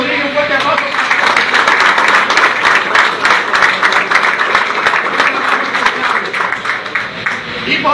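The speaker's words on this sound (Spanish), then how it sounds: "Presidente municipal del partido es el señor Ignacio Rodríguez, un fuerte aplauso" Crowd applause at a political party gathering in Higüey: loud, dense clapping that fills the space without letup, with voices and cheering mixed in beneath it.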